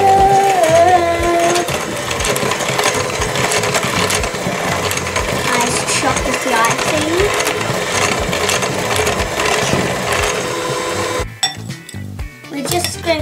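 An electric mixer whirs steadily through birthday cake batter, a loud continuous motor drone with faint clinks of beaters against the bowl, stopping near the end.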